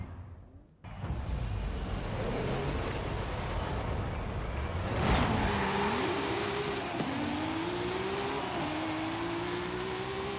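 A 1998 Toyota Supra tuned to 1600 horsepower launches on a drag strip in Forza Horizon 5, its engine revving hard with a wavering, shifting pitch over continuous roaring road noise after a brief silent start.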